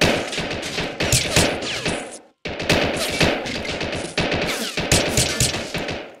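Machine gun covering fire in a video game: loud, sustained bursts of rapid automatic shots at close range, with one brief silent gap before firing resumes.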